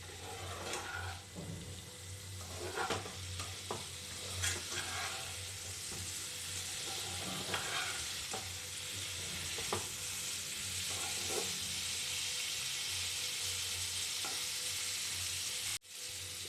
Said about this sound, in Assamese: এতিয়া মই ইয়াত ডিম আৰু আলুখিনি দি দিম। এইখিনি ভালকৈ মিক্স কৰি ল'ম